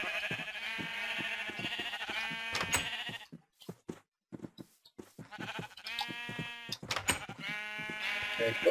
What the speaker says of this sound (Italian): sto trasportando pure le pecore